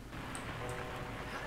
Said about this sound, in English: Nah, this dratted rain.